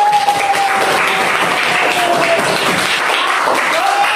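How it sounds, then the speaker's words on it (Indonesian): Students in a classroom applauding a group for a correct math answer, loud close continuous clapping with a faint tone running through. "Tepuk tangan untuk kelompok."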